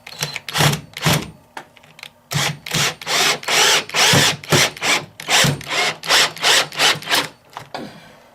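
An old cordless drill, some 15 to 20 years old, drives screws into wood while a miter saw bench is built: a dozen or so loud, close whirring bursts in quick, uneven succession, separated by short pauses, with no talk.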